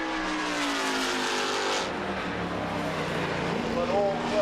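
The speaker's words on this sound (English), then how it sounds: "This is a Lola T330." A Lola T330 Formula 5000 race car's engine roars past, its pitch sweeping and dropping as it goes by, loud and near, while a commentator's voice runs over it.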